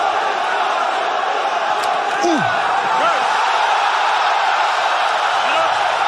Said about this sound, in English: This crowd is going berserko